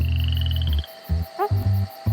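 Several deep, pulsing frog croaks ring out in Australia, a long resonant call followed by shorter bursts with gaps between, loud and close over a faint background with a brief higher chirp.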